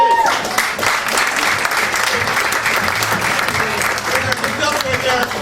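Audience applause fills a live comedy club show in Philadelphia, a dense, steady wash of clapping that holds loud and even from start to finish with no talk over it.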